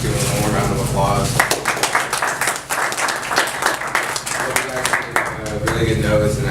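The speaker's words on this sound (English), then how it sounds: "Let's give him one more round of applause." An audience at a university resume workshop claps in a sustained round of applause, while a person speaks over it at the start and end.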